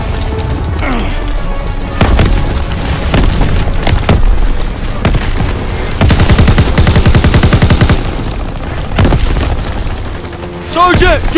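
Battlefield combat in Call of Duty WWII: a loud grenade blast and repeated heavy booms mixed with bursts of rapid machine-gun and rifle fire, close and intense, with shouted voices in between.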